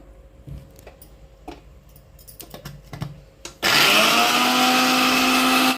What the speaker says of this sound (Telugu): ఫ్రెండ్స్ మిక్సీ అయితే పట్టుకుందాము.